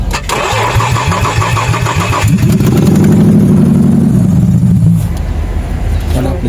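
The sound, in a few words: Nissan Xterra engine starting and idling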